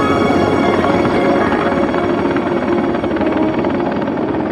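A Soviet Mi-10 heavy helicopter drones loudly and steadily up close, its dense rotor and turbine roar continuous and unbroken throughout, with no voices.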